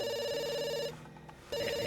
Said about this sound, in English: Oh, gotta answer my phone.